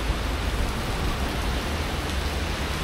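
Steady, dense downpour of heavy rain during a thunderstorm, a continuous close hiss of drops hitting surfaces with no talk and no distinct thunder.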